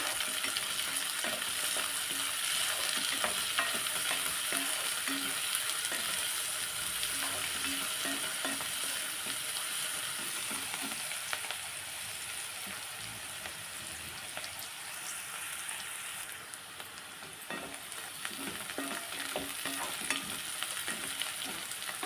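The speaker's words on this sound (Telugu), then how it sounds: "ఉల్లికూర దీన్ని కూడా బాగా కలపాలి" Onion stalks and broad beans fry in a pan while being stirred, giving a steady close sizzle with scraping and clinking strokes throughout and no talking.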